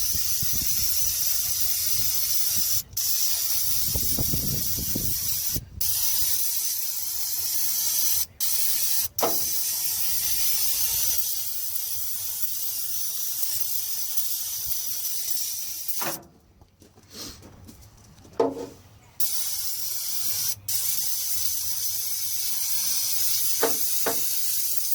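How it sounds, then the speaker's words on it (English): Brake cleaner is sprayed onto hot engine headers of a 1968 AMC Javelin 343, giving long, loud hissing bursts with brief pauses between sprays and a few faint clunks near the end. "That way you can breathe in all the good chlorinated goodness that comes from heated brake cleaner."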